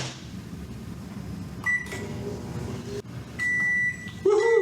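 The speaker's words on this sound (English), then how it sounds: "we're going to go ahead and place it in the microwave again for 1 minute." A microwave oven hums steadily while cooking a peppermint mug cake, then its door thuds and sharp electronic beeps ring out several times, ending with a final chime.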